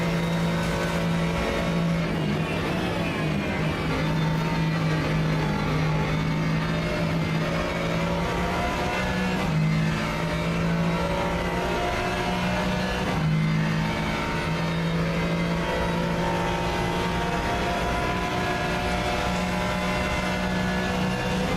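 A simulated race car engine in the Rennsport and LMU racing sim games, a continuous, loud, harmonic engine whine that holds steady with brief pitch drops at gear changes, heard alone without talk.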